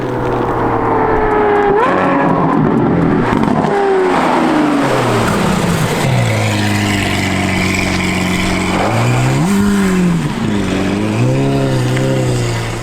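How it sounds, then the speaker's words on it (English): A Lamborghini Aventador SVJ with a Gintani F1 exhaust drives past on a winding road, its loud engine note rising and falling through gear changes as it approaches and recedes, filling the whole stretch. "getting a flyby first of him going past"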